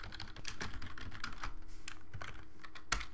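Close, quiet typing on a computer keyboard: quick, irregular keystrokes in short bursts, with no voices.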